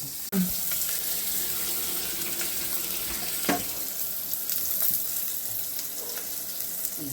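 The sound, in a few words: pointed gourd (potol) frying in a pan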